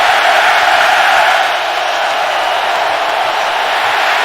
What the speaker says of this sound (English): This is a loud stadium.